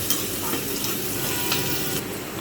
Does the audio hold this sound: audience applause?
no